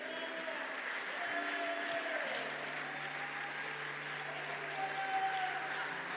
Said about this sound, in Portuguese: Aleluia, vamos aplaudir a Ele.